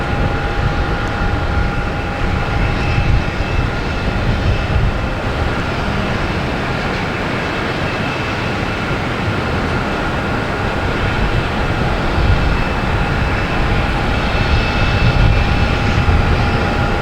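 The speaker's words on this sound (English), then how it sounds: "we have JetBlue coming in from Savannah in the A220" JetBlue Airbus A220 airliner arriving from Savannah at Boston Logan, a steady loud jet roar with broadband rumble and faint engine tones holding throughout.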